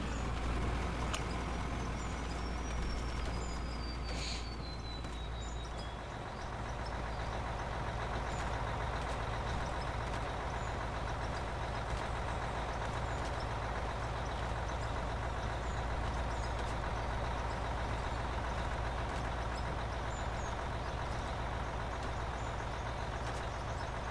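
A truck engine idles and rumbles steadily while being loaded at an underground iron mine, a low continuous drone with a faint high whine early on and no speech over it.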